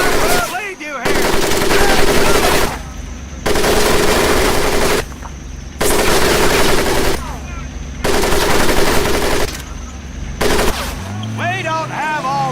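Machine gun fire at a boot camp crawl course in Medal of Honor Pacific Assault comes in long, loud, dense bursts separated by short pauses, with other game sounds in the gaps between bursts.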